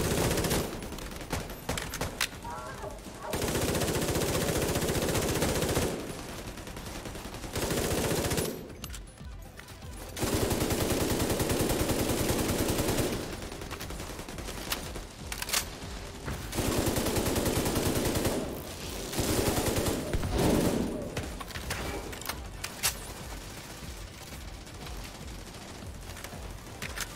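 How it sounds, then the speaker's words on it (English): Sustained automatic LMG fire in The Division 2: Warlords of New York, coming in long loud bursts separated by short lulls, with scattered gunshots in the gaps. "my LMG is definitely better for this instance"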